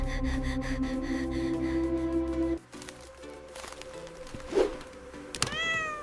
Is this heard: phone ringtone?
no